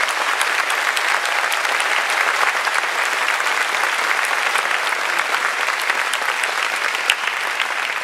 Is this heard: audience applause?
yes